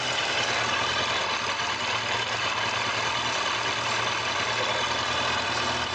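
A Kawasaki ZZR1100 D motorcycle engine idles steadily during a charging system check, with a continuous, even, close-up rumble and a dense hiss that holds unchanged throughout.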